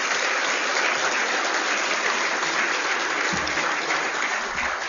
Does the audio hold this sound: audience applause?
yes